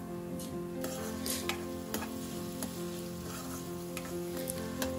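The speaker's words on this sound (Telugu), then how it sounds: "తర్వాత ఆనియన్ ఇంకా పచ్చిమిర్చి అవి మగ్గుతున్నప్పుడు కొంచెం కరివేపాకు కూడా వేస్తున్నాను" Onions, green chillies and curry leaves sizzle in hot oil in a steady hiss with a few faint clicks and stirring taps, close and alone without voices.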